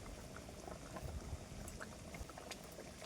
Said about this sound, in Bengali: ঝোলটা ভালো মতন ফুটে গেছে